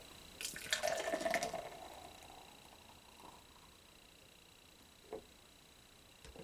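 Beer dripping and splashing as a can of Night Shift Pale Ale is opened and poured, a brief burst of liquid near the start followed by a few faint isolated drips in a quiet room.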